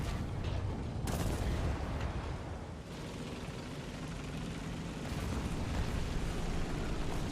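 Heavy tank cannon fire in War Thunder, a loud booming blast with broadband crash and rumble, followed by lingering battlefield noise.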